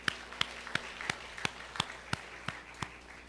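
A church congregation claps together in a steady rhythm, about ten even claps heard from a moderate distance at modest loudness, with no one talking over them.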